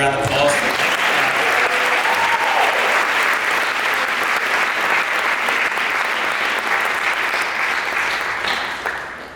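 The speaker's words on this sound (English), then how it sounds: "Let's give another round of applause." Applause from the audience at a school winter and spring sports awards ceremony, a loud, dense, sustained burst of clapping that tapers off slightly at the end.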